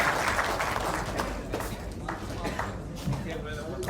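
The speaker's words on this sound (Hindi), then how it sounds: "इन कवियों का सम्मान के लिए एक बार तालियां।" An audience at a Hindu poets' honoring event applauds, dense continuous clapping that is loud at first and slowly thins, with voices mixed in.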